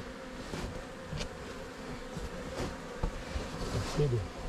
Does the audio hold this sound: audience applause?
no